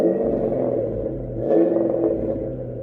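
A Ford V8 engine idles and rumbles steadily nearby, with a slight rise in revs partway through and no talking.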